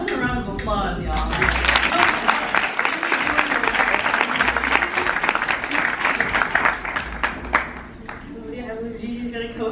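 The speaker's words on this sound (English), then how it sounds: "Another round of applause, y'all." A panel event audience breaks into a round of applause, loud sustained clapping from many hands that tapers near the end, with voices and talk mixed in.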